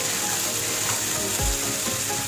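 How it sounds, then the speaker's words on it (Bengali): Masala spices sizzling steadily in hot oil in a pan for chicken curry, a close, even frying hiss with faint stirring scrapes and no talk. "মশলাটা ভালো করে কষে নিয়েছি।"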